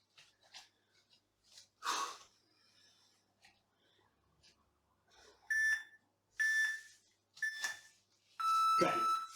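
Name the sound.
countdown beeps from kettlebell workout timer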